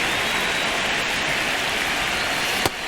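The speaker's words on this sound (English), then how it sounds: "This rain is not letting up." Rain falls on the ballpark during a Detroit Tigers at Atlanta Braves game in MLB The Show 26, a dense, steady hiss of downpour with one brief sharp tick near the end.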